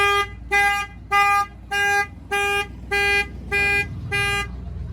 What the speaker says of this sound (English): We hooked it up to honk the horn. It's more factory. I'm gonna go ahead and bang on the window. The alarm fires off.